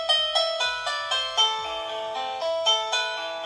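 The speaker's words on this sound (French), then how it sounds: "Donc ça, c'est la sonnerie banale." An AUKEY wireless doorbell with blue LED plays its basic chime, a clear, close melodic run of ringing electronic tones struck one after another, each one decaying. No one talks.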